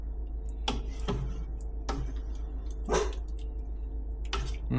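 A pet dog barks in short, separate bursts close by in a home kitchen while its owner cooks, with a steady low hum running underneath and no talking.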